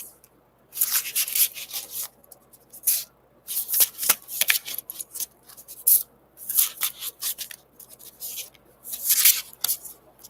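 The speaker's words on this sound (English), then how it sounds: "This deck requires a lazy shuffle." A tarot deck is lazily shuffled in repeated bursts of soft, hissing riffles and rubbing card sounds, close and fairly loud with short pauses between.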